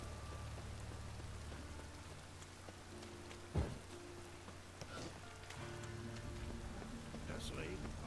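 Steady rainfall in the video game The Witcher 3 patters on surfaces, soft and continuous, with a low hum underneath and one brief thud partway through.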